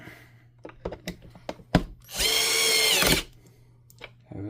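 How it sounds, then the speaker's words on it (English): A power drill set to a torque setting drives screws into a machine casing during a teardown, whining loudly for about a second in one sustained burst amid scattered workshop knocks and clicks. "I think I'm just gonna move to the drill."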